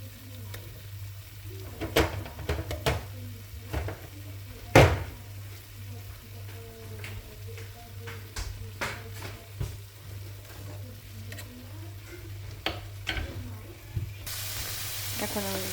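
Ghee sizzles in a pan of nearly finished carrot halwa, a soft steady frying hiss over a low hum with a few sharp clicks from stirring. A voice speaks intermittently.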